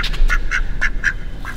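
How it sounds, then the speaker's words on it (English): A tethered duck by a river quacks about half a dozen times in quick, fairly regular succession, close and clear over a low background rumble. "So the first thing I noticed when I got here was the duck."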